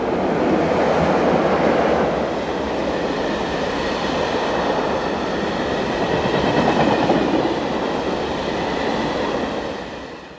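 Two Swiss Re 6/6 Class 620 electric locomotives hauling a train of empty hopper wagons pass close by, a loud continuous rumble with wheel clatter and rail noise that swells slightly and fades toward the end.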